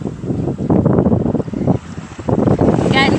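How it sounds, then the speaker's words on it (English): Heavy wind buffeting a microphone outdoors at a sea turtle release, a loud roaring rumble that surges and dips, with a voice faintly underneath. "I'm sorry, it's really windy."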